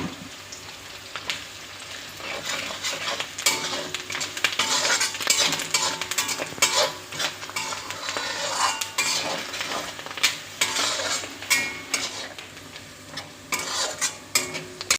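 Onions frying in a pan, stirred constantly with a metal spoon, giving repeated scraping clinks and clatters over a continuous sizzle, close and busy for the whole stretch with no talking.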